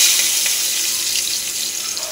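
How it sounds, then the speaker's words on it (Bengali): Green chillies, black cumin and chopped onion fry in hot oil in a pan, giving a steady, bright, close-up sizzle and hiss with no voices. "এবার পেঁয়াজটাকে আমি লাল লাল করে ভেজে নেব।"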